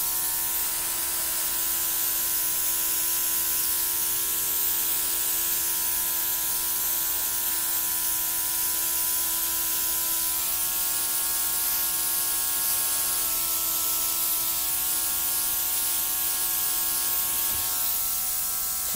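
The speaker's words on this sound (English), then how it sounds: "Then I'm going to get my little compressor" A small compressor runs steadily with a buzzing hum and airy hiss, driving an airbrush that blows acrylic paint across a fluid-art pour; the tone stays loud and constant with slight pitch shifts and no talk.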